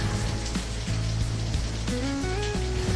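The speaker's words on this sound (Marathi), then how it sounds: "पाऊस खूपच जोरात आला" Heavy monsoon rain pours steadily and loudly, a dense continuous roar of drops hitting surfaces up close, with faint tonal sounds from the surroundings running underneath.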